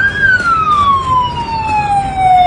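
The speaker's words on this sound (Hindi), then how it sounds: "एम्बुलेंस आ रही है।" Ambulance siren wailing loudly and close, a single long descending tone sweeping down in pitch over a steady background rumble, heard alone without talk.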